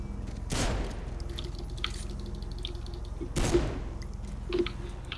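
Gunfire from enemies positioned above in the video game Saints Row IV, two or three sharp distant bursts of shots spaced a few seconds apart, fairly quiet over a steady low background.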